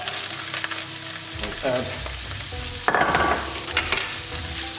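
Lamb meat searing in a tagine, a steady loud sizzle with stirring and scraping running throughout, briefly under a few spoken words.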